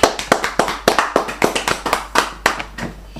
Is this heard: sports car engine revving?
no